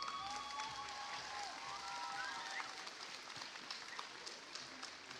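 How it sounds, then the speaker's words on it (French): Audience applause at a robotics competition award ceremony, an even wash of clapping through the whole stretch, with a few whistles or cheers near the start and a voice briefly audible. "Et sous un tonnerre d'applaudissements"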